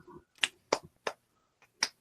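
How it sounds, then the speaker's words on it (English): Several sharp claps ring out near and fairly loud at uneven intervals, five quick strikes separated by brief silences, with no talking over them. "Is that clapping? That's applause."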